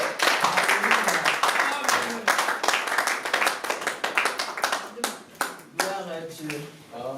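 Congregation clapping during a French-language Sunday church service: loud, sustained rhythmic applause with voices mixed in throughout.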